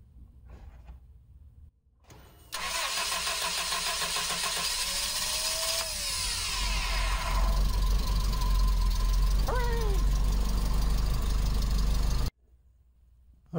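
Starter motor cranking the engine of a 1984-89 Toyota van after a wiring repair: a loud, steady mechanical whir and grind lasting about ten seconds, then cutting off abruptly to near silence.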